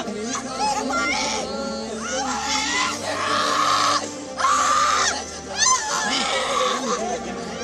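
A grieving relative of a Kashmiri Pandit killed in a militant attack in Shopian screams and wails in long, rising, anguished cries, with other voices sobbing and calling out around them.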